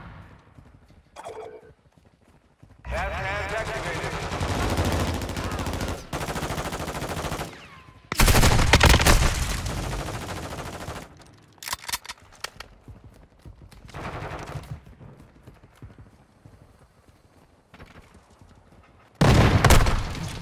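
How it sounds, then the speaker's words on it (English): Gunfire in the video game Call of Duty: Modern Warfare II comes in loud, dense bursts separated by quieter gaps, mixed with other game noise and shifting in intensity, with one last burst at the end. "they're shooting at me"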